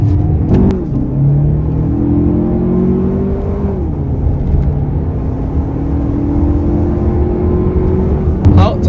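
A 2023 Lexus RX 350 with a 279-horsepower 2.4-liter turbocharged engine accelerates hard. Its loud, steady engine note climbs in pitch, drops briefly at gear shifts and then rises again over several seconds, heard close from inside the cabin.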